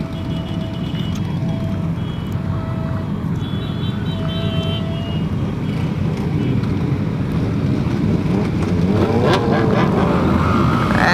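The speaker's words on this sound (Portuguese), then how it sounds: "Muita moto, hein?" Many motorcycles ride together along the Marginal road in a Motonatal Solidário charity Christmas run, producing a loud, continuous engine roar mixed with heavy wind buffeting that swells slightly toward the end.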